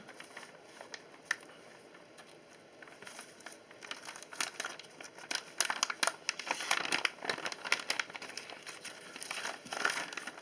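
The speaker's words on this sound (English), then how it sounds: "let's cut this bag open" A plastic bag holding Pro-Line body mounts for a Traxxas Slash RC truck is crinkled and cut open, giving close, irregular crackling and rustling that grows denser and louder in the second half, with no talking.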